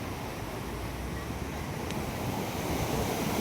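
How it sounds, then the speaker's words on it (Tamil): Floodwater rushes across farm fields in a village after the water was released, a steady, dense roar of flowing water that stays loud and unbroken throughout. "எவ்வளோ வெள்ளம் போகுதுன்னு பார்த்தீங்களா?"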